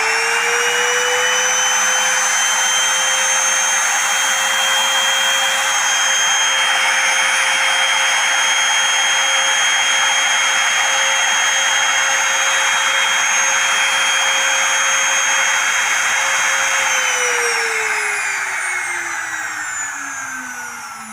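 An electric wood trimmer router runs at full speed with a steady, loud, high-pitched motor whine for about twenty seconds, then winds down as it is switched off.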